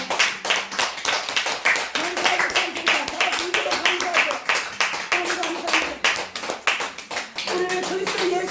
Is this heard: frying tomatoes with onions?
no